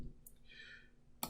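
A few faint plastic key clicks on a TI-83 graphing calculator, one soft tap early, a short electronic whine in between, then a sharper click at the end, quiet and close.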